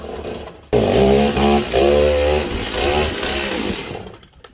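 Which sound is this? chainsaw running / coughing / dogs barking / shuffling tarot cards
chainsaw running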